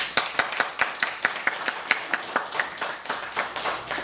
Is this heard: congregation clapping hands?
yes